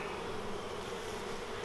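Dense, steady buzzing of many honey bees at a hive entrance during a spring hive inspection, a continuous close drone with no speech.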